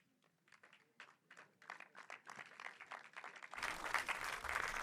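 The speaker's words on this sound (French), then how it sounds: "Ils t'applaudissent comme si tu avais réalisé le film" A cinema audience applauds a film distributor after a screening, starting with sparse, scattered claps that build into fuller, louder applause.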